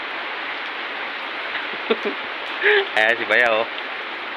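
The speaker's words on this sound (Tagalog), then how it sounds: "Grabe, malakas pa rin yung ulan." Heavy afternoon rain pours down steadily, a dense, even hiss filling the whole stretch, while a few short spoken words cut in near the end.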